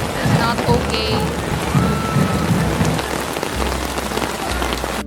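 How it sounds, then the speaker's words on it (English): Heavy rain pours down in a full downpour on a college campus, a dense, continuous hiss of drops hitting surfaces with a low rumble beneath and faint voices in the background. "Now at first, it was just a drizzle, then like a minute later, it was a full-on downpour."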